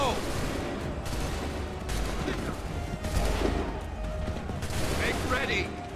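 Musket volleys crack out in Assassin's Creed 3, a battlefield of massed gunfire with several overlapping bursts of shots rolling across the whole stretch, loud and continuous, while commands and voices sound faintly beneath the firing.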